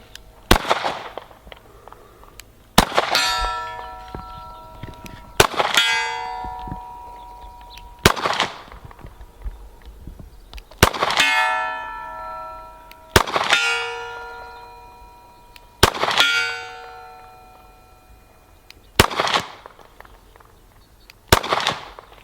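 Taurus G4 pistol fired at a steel target outdoors, eight sharp shots spaced a few seconds apart, each followed by a ringing metallic clang from the steel that slowly decays, loud and close.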